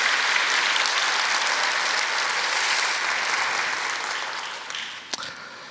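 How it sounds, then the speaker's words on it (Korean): A church congregation claps together at a Sunday afternoon service, a dense, even round of applause that holds and then fades out after about five seconds, ending with a few last claps. "자, 우리 다시 한번 감사의 박수 하나님께 영광을 드리겠습니다."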